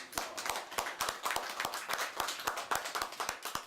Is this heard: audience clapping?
yes